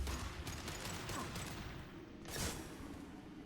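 Enemy gunfire in the video game Mass Effect 2 crackles faintly and steadily in the background, with a brief louder burst near the end.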